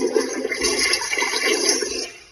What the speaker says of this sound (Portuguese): dá pra dar descarga no banheiro?